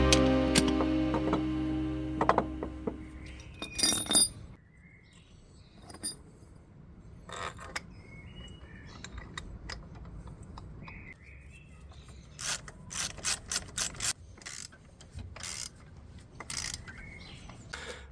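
Ratchet wrench clicking in short bursts while tightening size 19 and 21 subframe bolts on a 2005 Fiat, the quick ratcheting runs close and fairly loud, separated by quieter gaps of handling noise.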